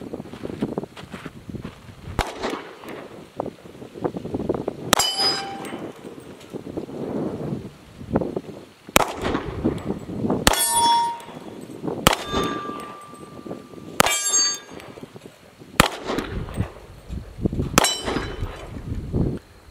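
A .40 S&W pistol fires 155 grain reloads at steel targets outdoors, about nine sharp shots spaced a second or more apart, each followed by a ringing clang of struck steel, with light wind noise between.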